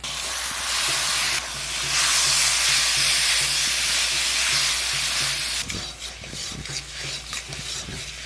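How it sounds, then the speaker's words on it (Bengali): Bitter gourd fries in hot oil seasoned with salt, turmeric and masala, giving a loud, steady close-up sizzle that later breaks into stirring scrapes and uneven crackles. "উস্তেটা দুই মিনিট মতন বাজিছি"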